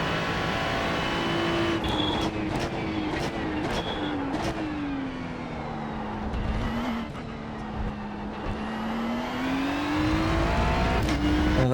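A car lapping Monza, its engine droning loud and close with pitch sweeping up through the gears, several sharp shift breaks along the way, then a long steady rise in top gear.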